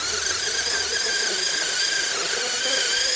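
A steady, high-pitched rubbery squeal from the small tires of an old Hot Machine radio-controlled truck spinning on a surface continues without a break, loud and close.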